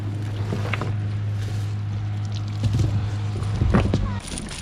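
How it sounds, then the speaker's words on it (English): A small fishing boat's engine drones with a steady low hum throughout, with water splashing and faint voices briefly rising over it near the end. "You drive the boat."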